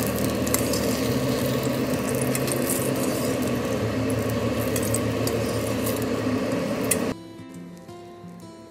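Raw banana, eggplant and bitter gourd fry in oil, a loud, continuous sizzle and crackle close by that cuts off sharply near the end, leaving a quieter hum behind; nobody talks.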